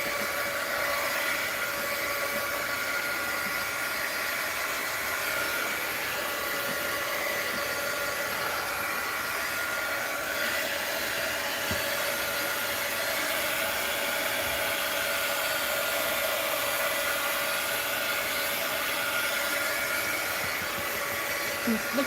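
A heat tool blows continuously while drying paint on an art journal page, a constant breathy whoosh with a faint motor whine, steady and unbroken for the whole stretch at moderate distance.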